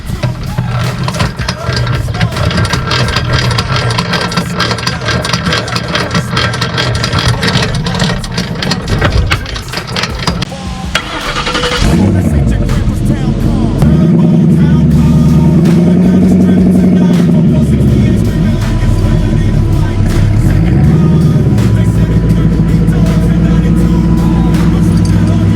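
A turbocharged Lincoln Town Car pulling a camper trailer, its engine droning steadily and loudly throughout, with a shift partway through into a deeper, surging revving tone as it accelerates.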